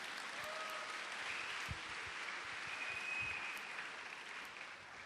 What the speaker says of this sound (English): Can you give a very big clap from Jesus Christ today?